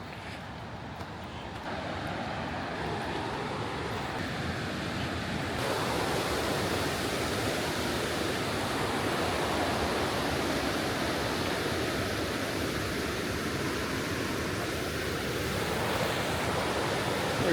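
A fast, powerful river stream in Chile rushes steadily with a loud, continuous broadband roar and no pauses, close by.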